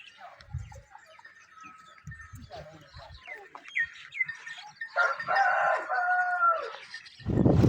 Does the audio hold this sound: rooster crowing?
yes